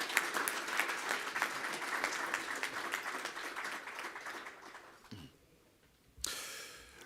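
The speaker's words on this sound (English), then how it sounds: "A round of applause for you, please." A conference audience at a biomass industry event breaks into applause, dense clapping for about five seconds that fades, then a short fresh burst of clapping near the end.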